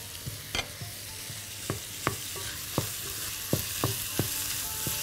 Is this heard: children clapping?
no